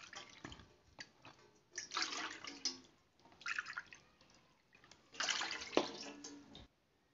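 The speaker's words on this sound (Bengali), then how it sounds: "এবার ওই পাত্রতে এই বাটি মেপে 3 বাটি জল দেব।" Water poured bowl by bowl into a cooking pot for steaming lentil-filled rice dumplings, three separate splashing pours with short pauses between, close and fairly quiet, no talking.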